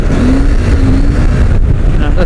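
A KTM 890 Adventure R motorcycle engine drones loudly and steadily while riding, its pitch wavering slightly under heavy rushing wind noise, with a voice faintly mixed in.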